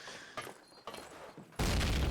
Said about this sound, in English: And we have some anti-rush nades being thrown by the FRS side